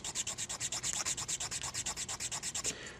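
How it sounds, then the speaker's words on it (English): Rapid, rhythmic rasping of a file scraping back and forth across a resin model part, about eight strokes per second, close and steady, then stopping. "So just like this, we're going there, and file that down."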